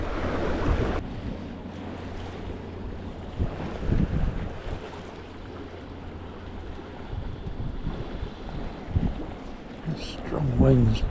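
Strong gusting wind buffets the microphone alongside rolling waves and surf on the shore during salmon fishing, a loud continuous roar with bursts of heavier gusts and splashes, no speech.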